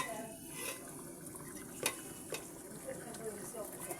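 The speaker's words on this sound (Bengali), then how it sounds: "মাছের মাথা দিয়ে এবার আমি মশলাটার সঙ্গে সুন্দর করে কষিয়ে নিব।" Three fish heads frying in spice paste, heard as a faint, steady low sizzle with soft stirring scrapes and a few light knocks of the spoon, distant-sounding and quiet.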